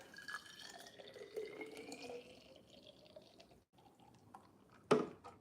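Homemade limeade pours into a glass with a faint, trickling stream that thins into drips, then a short louder splash or clink near the end, with no talking.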